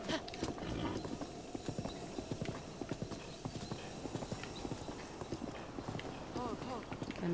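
Horse hooves gallop in rapid, rhythmic clip-clops in the video game The Legend of Zelda: Breath of the Wild, steady and moderately loud, with a person talking over them.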